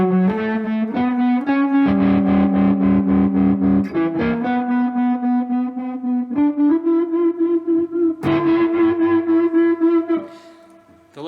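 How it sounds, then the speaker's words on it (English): A vintage HH IC100 guitar amp plays chords through its tremolo and reverb, the notes pulsing in quick regular throbs and ringing out with a washy tail before fading at the end. "You get some pretty good interaction with the tremolo and the reverb as well"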